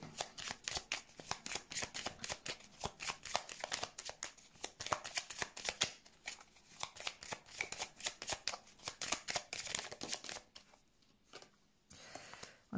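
Tarot cards shuffled by hand for a reading, a steady rapid riffling and slapping that runs for about ten seconds before easing off, close and alone.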